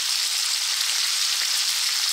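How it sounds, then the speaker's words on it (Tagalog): Fish frying in a pan on an infrared induction cooker, giving a steady, even sizzle that holds close and constant throughout with no voices over it. "So, ito, nagpiprito tayo ng isda."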